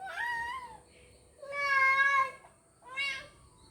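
A kitten meows three times, high and thin, with short pauses between calls, close and clear over a quiet background.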